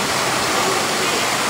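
A waterfall pours in a constant, loud, full-bodied rush of water with no breaks across the short stretch.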